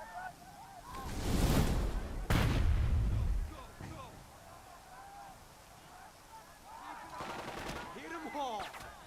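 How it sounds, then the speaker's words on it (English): Naval gunfire in the Burden of Command war game, set on the Sicily beaches, with loud booming salvos early on and then lighter crackling fire. A voice is heard faintly underneath. "Naval gunfire continues to seek the enemy bunker."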